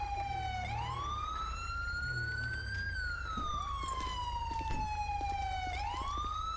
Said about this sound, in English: He's just gonna run a siren like a dipshit.